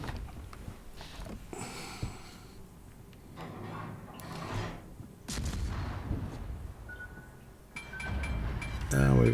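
Ship guns boom in a World of Warships naval battle, a few muffled, fairly quiet heavy reports spaced apart among softer game effects and chirps, with no clear speech.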